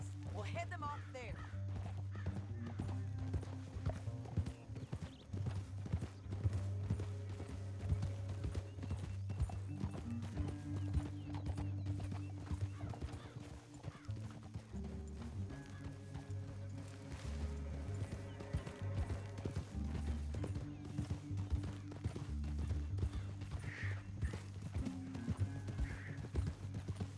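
Horses run through a Red Dead western video game, their hoofbeats clopping in a steady rhythm under a continuous low music bed, with nearby voices talking.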